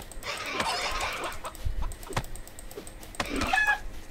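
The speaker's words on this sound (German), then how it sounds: "Zum ersten Mal Huhn getötet." Chicken being killed in the survival video game CryoFall: brief clucking squawks and game hit sounds over a busy in-game backdrop, with a couple of sharp strikes.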